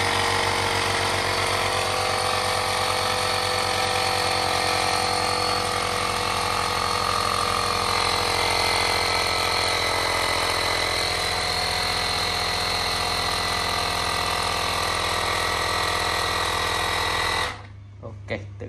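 Battery-powered mini air pump runs on auto mode with a loud, steady mechanical buzz and rattle for about seventeen seconds, then cuts off abruptly, leaving a few faint clicks.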